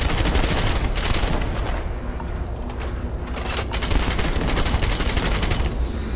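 AK rifle mod firing in Starfield, loud rapid automatic bursts close by, a dense run of shots with heavy booming body lasting several seconds, no talking.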